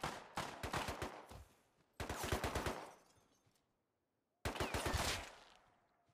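Gunfire in the survival game Rust: three separate loud bursts of rapid shots, each ringing out and decaying into a short echo tail, with quiet gaps between them.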